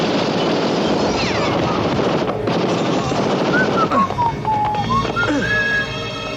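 Dense gunfire bursts from the film Lady Terminator, loud and continuous with machine-gun-like rattling, mixed with whistling tones and film soundtrack noise throughout.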